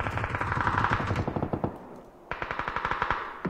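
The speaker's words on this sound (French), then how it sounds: "Il m'a vu et il m'a tiré." Video game gunfire in rapid automatic bursts, two long strings of close, sharp shots separated by a brief pause, loud and without talk.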